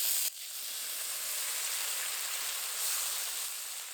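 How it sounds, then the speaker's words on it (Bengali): Vegetables, whole coriander seeds and melon seeds fry in a pan with a steady, close sizzle that starts abruptly and continues evenly without talk. "সমস্ত সবজি আর মশলাকে বেশ কিছুক্ষণ ভেজে নিয়েছি এবার অল্প জল দেবো"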